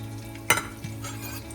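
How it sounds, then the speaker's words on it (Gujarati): Peanuts fry in a little oil with tempering, giving a soft steady sizzle broken by one sharp clink or stir near the middle. "સિંગદાણાને થોડા તેલમાં વઘાર સાથે શેકીશું"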